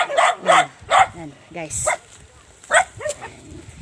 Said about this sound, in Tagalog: ano mga aso nila.